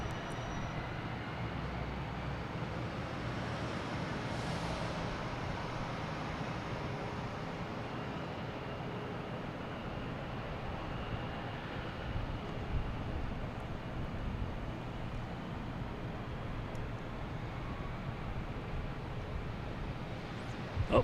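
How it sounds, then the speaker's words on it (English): A JetBlue Airbus A320 airliner arriving at Boston Logan Airport from Jacksonville, a steady, distant broadband jet roar holding at an even level throughout with no talk over it. "we have JetBlue coming in from Jacksonville, an A320."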